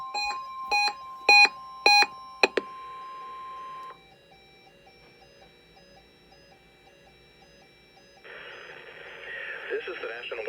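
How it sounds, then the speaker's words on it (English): A Midland WR120 NOAA weather radio sounds its alert: five loud, evenly spaced data-burst tones, then a long steady alarm tone, a quiet gap, and a noisy broadcast voice coming through the small radio speaker. "The preceding audio signals and alarm tones were a test of the NOAA All Hazards Radio Public Warning Alarm System."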